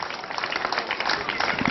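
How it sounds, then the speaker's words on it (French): An audience applauds the partners at a public gathering in Biabou, a short burst of dense, even clapping from a crowd. "je demande à toute la population ici présente d'applaudir encore tous ces partenaires"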